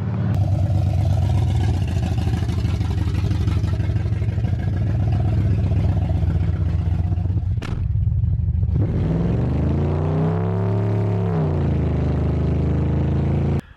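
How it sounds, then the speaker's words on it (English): A Chevrolet C1500 OBS pickup with a swapped engine doing a burnout on dry pavement, its engine roaring loud and sustained, then briefly cutting out before revving back up with rising and falling pitch. "It runs, it drives, it smokes the tires pretty good."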